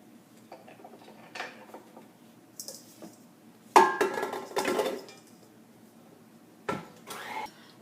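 A spoon scrapes and clinks against a bowl as cannoli filling with cherries is mixed, coming in sporadic bursts of knocking and scraping separated by quiet pauses.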